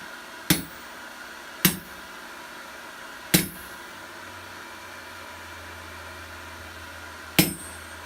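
A hammer strikes hot steel to punch through a pair of wolf jaw tongs. Four sharp, ringing blows come at uneven intervals, each standing alone against a quiet background.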